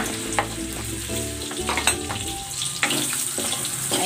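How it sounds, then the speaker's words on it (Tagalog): Hotdog pan-frying in hot oil, a loud close sizzle with spoon stirs and clatter throughout, a faint trickle of water now and then. "Iprituhin ko rin ng bahagya itong hotdog"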